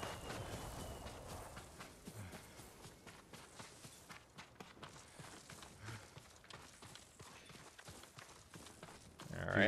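A horse in the video game Ghost of Tsushima, with quiet rhythmic hoof-like thuds and steps moving along steadily, low in level, ending in a louder swell.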